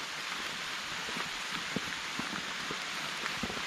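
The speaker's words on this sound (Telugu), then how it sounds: "వర్షం కూడా ఈరోజే పడుతుంది." Steady rain falls in the Nallamala forest near a waterfall shrine, a dense hiss with scattered close drops tapping on surfaces, quiet and constant with no talk.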